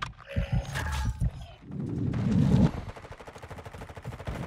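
A weapon reload in a Call of Duty Modern Warfare II multiplayer match: a short burst of gunfire, then a quick run of metallic clicks and clacks from the reloading mechanism, close and fairly loud.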